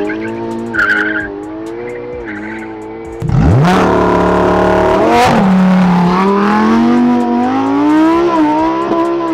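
A Lamborghini Huracan STO V10 and a Ferrari 488 Pista twin-turbo V8 launch in a drag-strip roll race: a loud engine surge bursts in partway through, then rising revs sweep up through the gears, sustained and close, with no talking.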